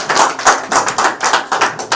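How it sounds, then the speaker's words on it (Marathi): Applause from a crowd at the opening ceremony of an ayurvedic juice and herbal medicine shop, a burst of rhythmic hand clapping in pulsing waves, loud and close, with no talk over it. "जोरदार टाळ्या वाजवा।"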